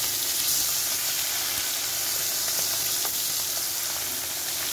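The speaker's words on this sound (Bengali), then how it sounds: "ওটা বেসন দিয়ে ভাজবো ভাবছি" Amudi fish coated in gram flour fries in hot oil, sizzling steadily and loudly close by with no talk.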